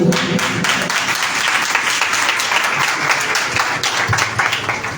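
A church congregation at a Sunday service claps loudly, a thick, continuous wash of applause from many people filling the room without pause.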